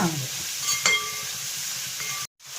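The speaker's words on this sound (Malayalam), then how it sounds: "അപ്പം നമ്മുടെ സവാള നല്ലതായിട്ടൊന്ന് വഴന്നുണ്ടല്ലോ" Onions sizzle as they sauté in a pan for Kerala-style beef mappas, with a steady close frying hiss, a brief stir or clink partway through, and a short cut to silence near the end.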